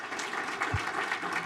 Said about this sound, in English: I think a round of applause for our students